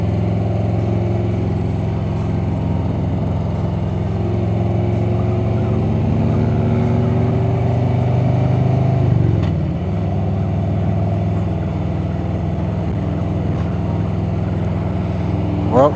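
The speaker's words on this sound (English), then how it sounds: "This bike sounds so good." Harley-Davidson Road Glide motorcycle cruising on the road, a steady loud low engine drone with wind rush throughout, the rumble shifting slightly midway.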